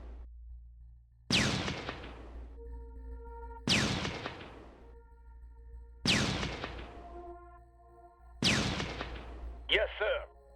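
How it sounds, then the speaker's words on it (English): Artillery and gunfire in Shadow Empire: four evenly spaced, heavy booming blasts roughly every two and a half seconds, each ringing out with a tonal decay, followed by a brief chirping effect at the end. "Range attack hit him with all the guns."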